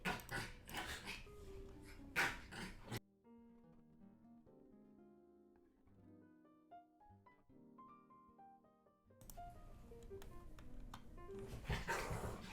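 Dogs bark in rough, noisy bursts at the start and again near the end, with music playing quietly between the bursts, all at low volume.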